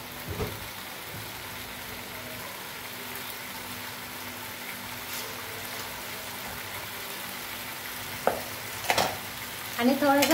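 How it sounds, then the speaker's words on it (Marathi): Pasta being stirred in a pan with a low steady sizzle, a few soft scrapes and clinks near the end, no talking. "आता असं मस्त आपण असं फिरवून घेऊया परत एक वेळेस त्याला"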